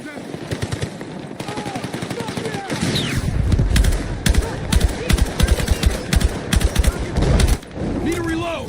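Machine gun fire in the Battlefield 6 video game, with dense bursts of rapid shots that start sparse and turn into heavy sustained firing with loud impacts, mixed with scattered game chatter.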